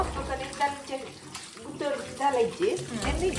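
Water runs and splashes as cluster figs are washed by hand in a village kitchen, a close, uneven gush with sloshing, while a voice talks over it.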